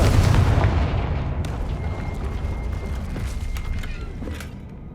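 A Confringo blasting spell explodes in Hogwarts Legacy on PS5, a loud booming blast with a heavy low rumble that decays into crackling debris and creaks over several seconds.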